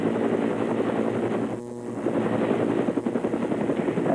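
A helicopter flies an aerial tour over Charleston's 1989 Hurricane Hugo storm damage, its rotor giving a loud, close, continuous chopping beat with a brief dip in the middle.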